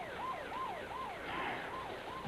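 Ambulance siren from a 1984 television advertisement, a rising and falling wail repeating about every third of a second in a rapid yelp pattern, steady and moderately loud under a constant background hum, with no talking.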